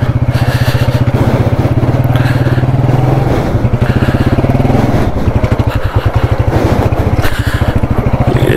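A motorcycle engine labours along a rough, badly damaged local mountain road in the Murree district, its loud, close, steady chugging exhaust pulsing throughout with a brief dip midway, accompanied by scraping and clattering.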